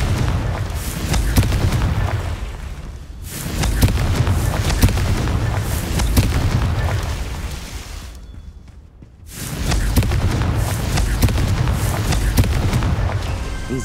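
A Confringo blast curse in Hogwarts Legacy erupts in loud, rumbling explosions, two long booming roars separated by a short silent break, deep and close.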